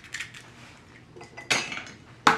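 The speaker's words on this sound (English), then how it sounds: "We're gonna crack a whole egg." A whole egg is cracked against a bowl while making gluten-free hot cross buns: a few light clinks, then two sharp, close taps a moment apart, with no talking.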